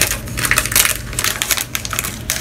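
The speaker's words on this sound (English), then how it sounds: "Sorry about the crinkle." Crinkling of plastic and paper packaging while unboxing a small store haul, sharp crackling and rustling bursts up close, loud and irregular with no talking.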